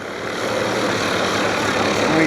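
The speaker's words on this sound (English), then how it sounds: "Here's a stunt plane" A stunt plane engine droning steadily while the aircraft makes sharp turns over Camarillo airfield, loud and continuous with a slight swell toward the end.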